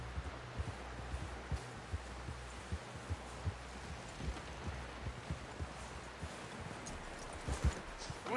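Horse hooves clip-clop steadily in the video game Red Dead Redemption 2, a soft, regular beat of hoofbeats under a constant low rumble, fairly faint and without speech.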